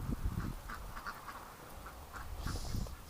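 Muscovy ducks quack in a snowy winter yard, a run of short nasal calls spread across the moment, fairly close, with no talking.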